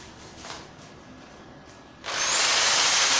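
Quiet background, then a power drill suddenly starts and whirs loudly and steadily until the end while drilling into a wall to mount a flat-screen TV.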